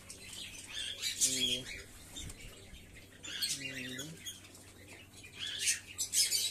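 Fantail and tumbler pigeon chicks give two faint, soft squeaky cheeps a few seconds apart, with light rustling and fluttering in between.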